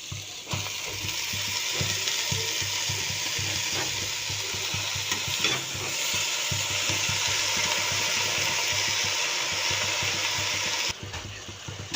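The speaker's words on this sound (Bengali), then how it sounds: "এই তো পালং শাকটা কষানো হয়ে গেছে" Chopped spinach and vegetables sauté in a pan, a steady sizzle with repeated scraping stirs throughout, close and fairly loud, cutting off abruptly near the end.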